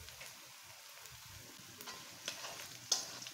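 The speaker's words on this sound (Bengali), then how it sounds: "আমি এখন পটলের পুরের জন্য পেঁয়াজ আর রসুন এগুলো ভেজে নিচ্ছি সুন্দর মতো।" Onion and garlic with whole cumin seeds fry quietly in a pan for a stuffed pointed-gourd dish, giving a soft, faint sizzle with a few light taps and a sharper clink near the end.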